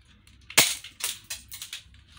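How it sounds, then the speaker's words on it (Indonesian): One sharp Desert Eagle replica pistol shot pops close by, followed by a few softer clicks and rattles from the gun's mechanism. "tembakan pertama"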